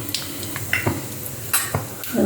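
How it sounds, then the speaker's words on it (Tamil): Mustard seeds, urad dal and chana dal frying in hot oil for tomato rice: quick crackling pops and a spoon clinking and stirring in a pan, close and brief. "கடுகு வச்சு ஆரம்பிச்சுட்டு உளுத்தம்பருப்பு கடலைப்பருப்பு போடுறேன்"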